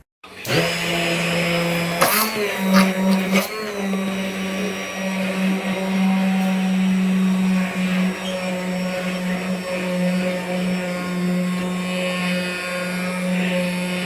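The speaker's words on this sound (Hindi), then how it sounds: "अब ये मक्खन बन के हो गया है तैयार। बस अब बंद कर देती हूँ इस ब्लेंडर को।" A blender churning butter starts up and runs loudly and steadily, its pitch wavering briefly early on before settling into a continuous churning whir.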